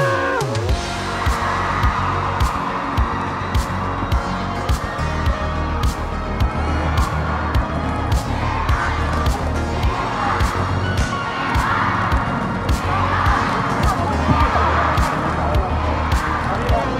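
Large crowd cheering and clapping at an RPL 2024 Summer esports championship event, a continuous roar with shouts rising and falling alongside a steady pulsing beat.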